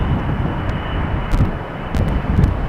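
Embraer jet airliner departing runway 36L at Amsterdam Schiphol, a steady broadband engine roar with wind buffeting the microphone, swelling slightly in a few brief gusts, with no talk.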